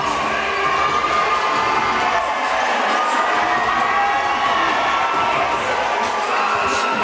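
A large crowd cheers and shouts at a UIL state area-round high school football playoff game between Sulphur Springs and Dallas Wilmer-Hutchins, a loud, steady roar of many voices lasting throughout with no break.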